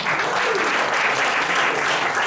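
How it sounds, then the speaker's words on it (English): An audience at a business presentation claps for World Venture, a dense continuous patter of many hands at a steady level throughout the short burst. "Can we give World Venture a round of applause?"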